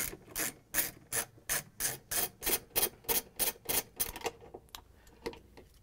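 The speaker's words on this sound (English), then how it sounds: "We're just going to use a 3 inch socket with a ratchet and an extension to take the bolts off" A ratchet with a socket and extension backs bolts off the transmission cover of a GE washing machine, making a steady run of about a dozen loud, close, evenly spaced clicking strokes that stop before a few faint knocks.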